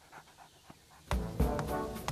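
A cartoon dog pants in quick, loud, breathy bursts that start after a quiet first second, close and alone with no talk.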